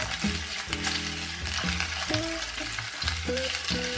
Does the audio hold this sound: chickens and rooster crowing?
no